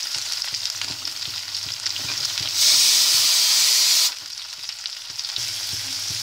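Chopped onions go into hot oil with ginger for Punjabi chole. A steady close sizzle and stirring swell into a loud hissing burst for about a second and a half, then settle back to frying.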